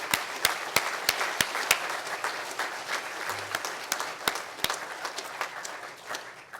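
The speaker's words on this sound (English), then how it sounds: "I think we can clap for Mike Bacon" At a 2010 Spokane Fire Department awards ceremony, the audience gives a warm round of applause. Many hands clap steadily in a hall, with a few crisp standout claps, and the sound tapers off toward the end.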